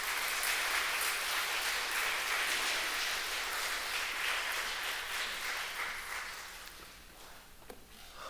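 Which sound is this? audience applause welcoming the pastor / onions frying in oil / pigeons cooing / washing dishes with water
audience applause welcoming the pastor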